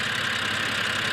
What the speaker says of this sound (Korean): 저 퍼지 밸브 소리가